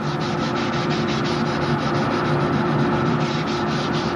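Steady, continuous rasping of sanding wood on a model airplane, a rhythmic rubbing scrape with no pauses and no voices.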